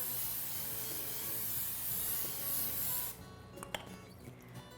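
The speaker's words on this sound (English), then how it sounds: "I'm gonna spray it really well with cooking spray" Cooking spray hisses steadily from a can into a preheated air fryer basket for about three seconds, close and loud, then cuts off, leaving faint handling clicks.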